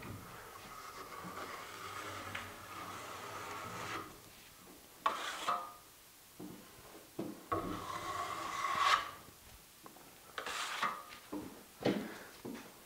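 Drywall trowel spreading joint compound over corner bead, quiet scraping and rasping strokes in irregular bursts with short pauses between passes.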